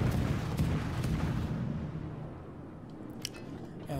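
Destroyer guns firing in World of Warships, a heavy booming rumble that is loud at first and then rolls away and fades, followed by a few faint sharp cracks.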